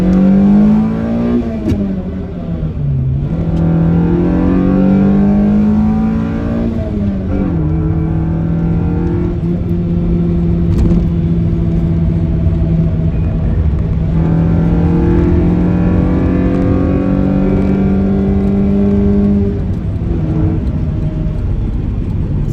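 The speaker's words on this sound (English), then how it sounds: "You can just listen to this beautiful car." A 1990 Toyota Celica 4WS GT-R engine revs hard and accelerates through gears onto a highway, the loud exhaust note rising, dipping at shifts, then climbing again.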